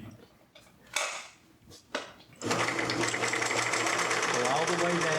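A sewing machine stitches a seam in a crafts session, a few brief taps giving way to a steady, fast, loud mechanical whirr that runs to the end.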